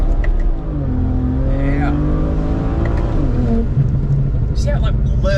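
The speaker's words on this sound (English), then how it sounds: "this is going to be first manual flat shift drag mode for Dylan. He's going to click that paddle" A street car with a drag-tuned transmission revs hard in drag mode, its loud engine note climbing and dropping sharply as it flat-shifts through paddle-clicked manual gears; a person briefly speaks.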